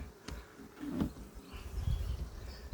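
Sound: honeybees buzzing

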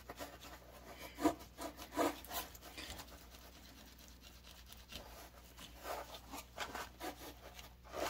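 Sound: rubbing patina onto stained glass

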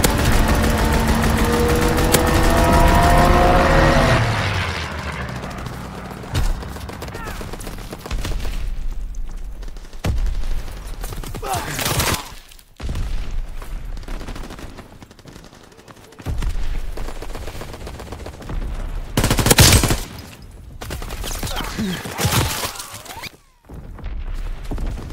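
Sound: fighter pilot strafing run with gunfire in Call of Duty video game

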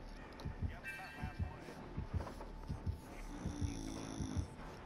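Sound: heartbeat from the video game Dead by Daylight

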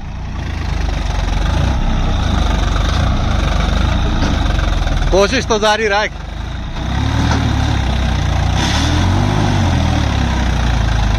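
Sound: Swaraj 855 tractor engine running

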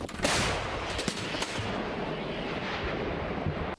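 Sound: artillery cannon firing shells

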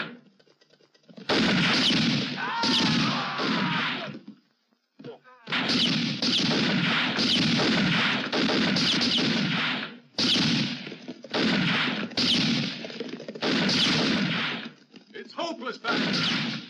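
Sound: gunfire in a western movie

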